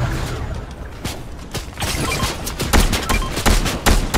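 Rapid gunfire in a Fortnite match, with loud, sharp shots cracking in quick bursts and irregular clusters throughout, some heavier impacts near the end.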